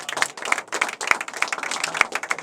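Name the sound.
audience clapping after a song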